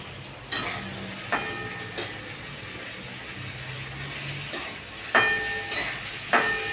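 A spoon scrapes and stirs potatoes and flat beans frying in a pan with bay leaf and dried chili, sharp clacks recurring every second or so over a soft, constant sizzle.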